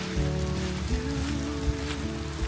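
Rain falls steadily outdoors on a wet dirt road, a continuous broadband patter with a low rumble running throughout and no talk.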